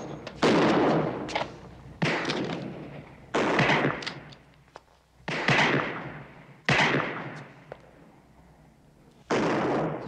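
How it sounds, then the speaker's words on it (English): A Smith & Wesson .38 revolver fires at a shooting range, six sharp loud shots spaced a second or two apart, each followed by a decaying echo. "It's a good weapon, the Smith & Wesson 38."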